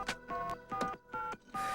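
Touch-tone telephone keys beep in quick succession, five distinct dual-tone presses with brief gaps, each accompanied by a soft button click.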